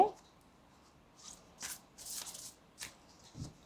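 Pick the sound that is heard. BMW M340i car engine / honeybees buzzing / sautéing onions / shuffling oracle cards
shuffling oracle cards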